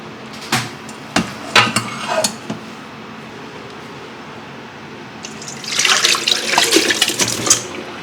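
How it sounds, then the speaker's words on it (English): Boiled seafood stew stock for Korean seafood stew is poured through a strainer, with splashing liquid and a few sharp clinks of metal, rising into a louder, sustained pour near the end, with no talk. "I'm gonna strain this out"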